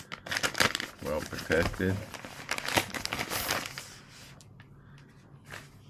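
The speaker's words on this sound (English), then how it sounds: "So it comes with this nice plastic bag" Plastic bag crinkling while unboxing a DJI Pocket 3 camera, close rustling crackles in repeated bursts alongside a man's speech, then quieter scattered rustles.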